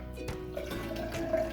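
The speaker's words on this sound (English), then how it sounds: "What you need to do is you need to pour your half a cup of water" Half a cup of water pours into a cup for a kitchen science experiment, a short, quiet trickle and splash heard on its own.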